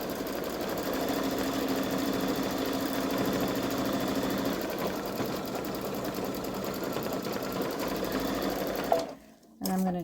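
A Baby Lock Solaris embroidery machine stitches satin stitches on an in-the-hoop eagle zippered bag, its steady, fast mechanical whir running unbroken and close for about nine seconds before stopping abruptly, followed by a brief soft rustle.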